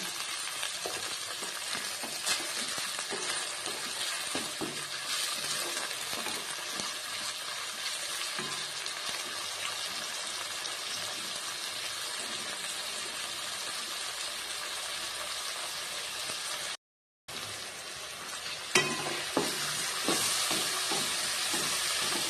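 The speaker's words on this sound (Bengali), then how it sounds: "এবার বিন গাজরটা ভাজা হয়ে এসছে" Sliced beans and carrots stir-fried in oil for chowmein, a long steady sizzle with frequent scraping and tossing knocks from stirring, broken by a momentary silent gap before it resumes louder.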